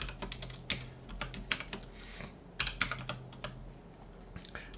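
Typing on a computer keyboard, a steady run of close, crisp key clicks in quick irregular bursts with short pauses, moderately quiet and with no talking.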